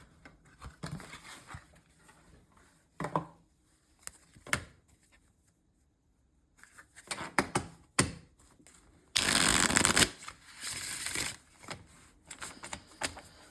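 Robin Wood tarot cards being shuffled by hand, soft intermittent riffles and slides with quiet gaps and one louder burst of card noise, close and faint.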